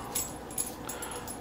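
A dog curling up to get comfortable makes her collar tags chime in a few faint, light jingles in the background of a quiet room.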